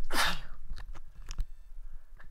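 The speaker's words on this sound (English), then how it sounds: "I have to sneeze." A single sharp sneeze bursts out up close at the start, loud and breathy, followed by faint clicks and small background noises.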